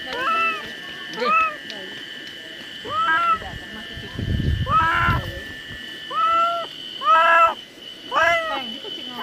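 A cat meows repeatedly outdoors near a fishing spot, with about seven or eight clear, pitched meows spaced irregularly, close and fairly loud, alongside a brief burst of rustling noise.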